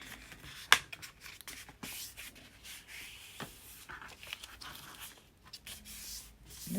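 Paper being folded and creased to form pockets, soft rustling and rubbing strokes with a sharp crinkle near the start, quiet and close with no talking.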